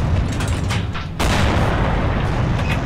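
Gunfire in the Forgotten Hope 2 battlefield game: a dense, booming burst of shots that erupts partway through and keeps rumbling loud and close, with no talk over it.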